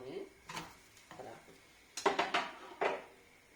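A pancake is turned over in a frying pan: a spatula scrapes and taps against the metal in several short clatters, close and moderately loud, amid faint sizzling.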